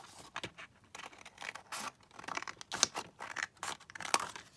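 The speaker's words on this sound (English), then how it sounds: "I think I probably want to cut it down about here" Scissors snipping through paper card while trimming a file folder pocket, a series of short crisp cuts and rustles at close range, fairly quiet and with no talking.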